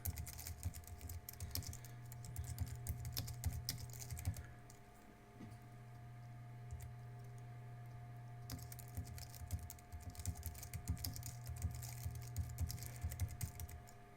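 Someone types on a computer keyboard in quiet bursts of rapid key clicks, pausing briefly midway before the tapping resumes, close and fairly soft.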